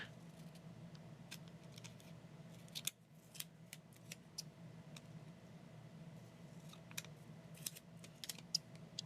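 Scissors cutting a paper planner sticker, a series of faint, crisp snips scattered over a quiet room background.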